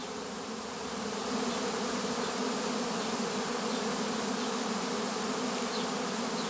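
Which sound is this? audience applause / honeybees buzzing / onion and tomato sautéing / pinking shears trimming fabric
honeybees buzzing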